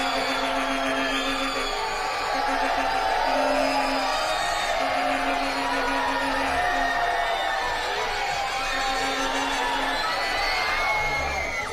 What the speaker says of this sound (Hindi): लड़कियां क्या चीखती हैं यार